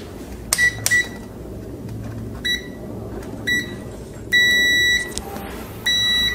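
A multimeter's continuity beeper sounds several short electronic beeps over a steady background hum: brief chirps first, then two longer sustained tones near the end.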